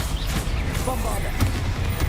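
Bombarda explosive spell cast in Hogwarts Legacy, producing booming, gunfire-like blasts that burst through dense, busy game noise over a couple of seconds, with voices mixed in.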